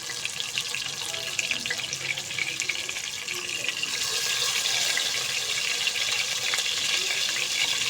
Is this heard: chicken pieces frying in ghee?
yes